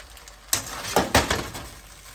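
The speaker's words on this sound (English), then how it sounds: "We're just really trying to get all that sauce over the noodles" Ramen noodles stirred through sauce in a pan, giving a few sharp clanks and scrapes of a utensil against the cookware in quick succession, close and clear with no talk.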